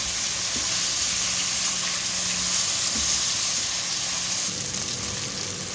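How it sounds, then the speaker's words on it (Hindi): Onions fry with bay leaves and chili in a pan, giving a dense, steady sizzling hiss that holds at an even level throughout, close and continuous, with a few faint stirring knocks and no speech. "प्याज को मैंने 3 से 4 मिनट फ्राई कर लिया है, सॉफ्ट हो गई है।"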